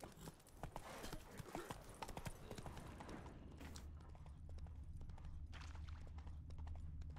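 Horse hooves at a gallop in The Witcher 3 video game, a fast, rhythmic clip-clop that starts busy and then quiets, with low voices murmuring faintly underneath.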